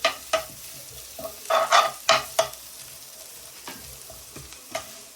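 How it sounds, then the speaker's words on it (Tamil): Fried potatoes, shallots and chillies stirred in a pan for a Sri Lankan Tamil puttu kothu, with several loud spoon scrapes and clatters in quick bursts over a low sizzle, then quieter, sparser scrapes. "பொறிச்சு வச்ச உருளைக்கிழங்கு, சின்ன வெங்காயம், கறிமிளகாய் எல்லாத்தையும் நான் இப்போ சேர்க்கிறேன்"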